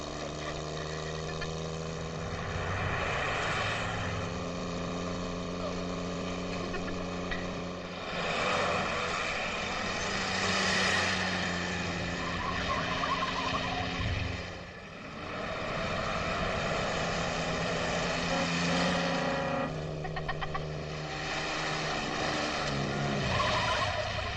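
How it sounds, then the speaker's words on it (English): Propeller airplane engine droning steadily in flight, a loud continuous hum with harmonic tones in a 1950s comedy film scene, holding constant with slight swells and no voices. "We're going to circle the field, so fasten your safety belt, no smoking."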